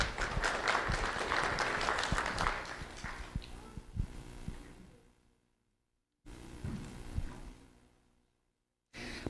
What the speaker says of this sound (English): Let's have a round of applause for Marianna and Emilia.